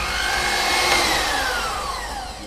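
An electric hand whisk whips egg whites to a soft foam, a loud close high-pitched motor whine with a faint pitch sweep that holds steady throughout, with no talking.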